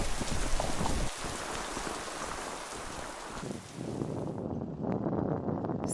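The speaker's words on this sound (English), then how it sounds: "It's hailing." Hail and rain pelt down steadily on a hiking trail along the Lycian Way in Türkiye, a dense close patter with gusts of wind noise, easing briefly near the end before resuming.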